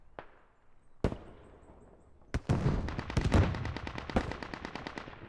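Heavy infantry gunfire barrage in a video game urban battle between British and militia troops in downtown Narva: a few isolated loud shots, then a dense rapid stream of automatic fire and cracks.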